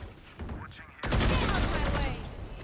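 Video game gunfire cuts in abruptly, a dense burst of rapid shots that continues loud and unbroken after a short quieter stretch with muffled sounds.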